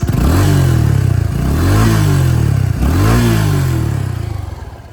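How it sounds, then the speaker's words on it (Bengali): A Suzuki Gixxer SF 250 motorcycle with a deep, bassy exhaust is revved hard nearby, rising and dropping in about three loud sweeps before tailing off, with no voices. "একজস্ট অনেক বেস"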